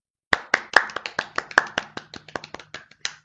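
A single pair of hands claps about fifteen times in a quick, slightly uneven rhythm, each clap sharp, close and dry, with a faint low hum beneath and no talking.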